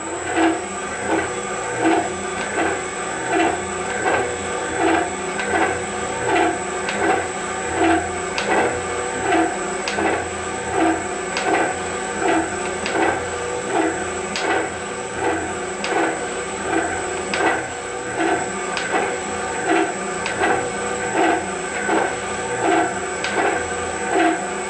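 A metal shaper cuts a slot for a vise on a sine base, its ram stroking back and forth in an even repeating rhythm of loud mechanical clanks and a sustained whine, steady throughout.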